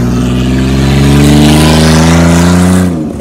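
A turbocharged Chrysler PT Cruiser engine revs loud and close, its pitch climbing steadily over about three seconds before it abruptly drops off at the end.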